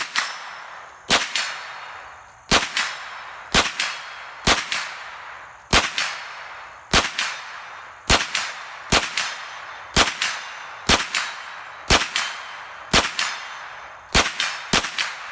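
Handgun shots firing defensive ammunition at a range, aimed at a target 50 yards away, a slow series of about fifteen sharp, loud cracks, each followed by a short echoing decay.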